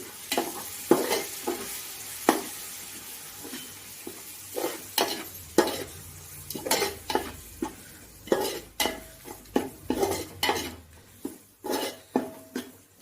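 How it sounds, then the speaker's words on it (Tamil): Chicken and yogurt for biryani stirred in a sizzling pot, with a steady frying hiss beneath repeated sharp scrapes and clinks of the spoon against the metal pot. "தயிர் சேர்த்து நல்லா கலந்துருங்க."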